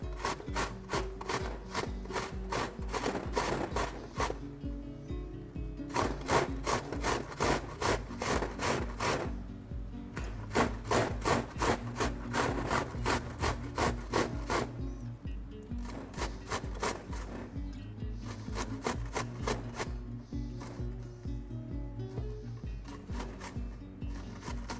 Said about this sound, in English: Then we'll grate the onion.